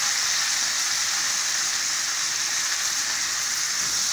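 Tomato, onion and bell pepper sizzle steadily in a hot pan for a pasta dish with calabresa sausage and eggs, a close, even hiss with no break and no talking.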